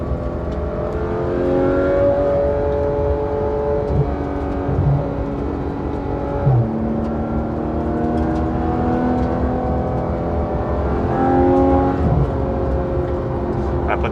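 A car engine hums steadily from inside the cabin while driving on a Smokies GT fall road trip, with shifting engine tones rising and falling throughout and no talk over it.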